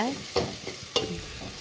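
A spoon stirs curry leaves and other ingredients frying in a pan for homemade sambar, giving a soft steady sizzle broken by two sharper scraping strokes, close by.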